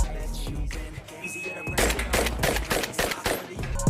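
Shots from an M1014 shotgun, real or from the Free Fire game, crack out in a rapid, dense string of loud blasts with no talk over them, after a quieter lead-in of lower rumble.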